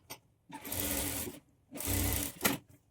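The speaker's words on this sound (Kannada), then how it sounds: "ಕ್ಯಾನ್ವಾಸನ್ನು ಪೇಸ್ಟ್ ಮಾಡಿಕೊಂಡು ಈ ಕಡೆ ಎಡ್ಜಲ್ಲಿ ನಾವು ಸ್ಟಿಚ್ ಹಾಕ್ಕೊಳ್ಬೇಕು." A sewing machine stitches a pasted canvas lining along the edge of a padded princess-cut blouse, two short close rattling runs of rapid needle strokes with a brief pause between.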